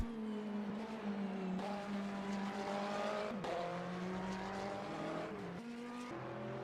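GT3 race cars lapping Canadian Tire Motorsport Park in a sim racing game, a steady droning engine note with shifting pitch as gears change, several cars audible together, continuous and fairly close.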